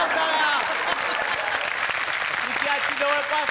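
Loud, sustained studio audience clapping on a Marathi comedy show, dense and even from start to finish, with a few tonal musical or vocal touches rising over the clapping near the end.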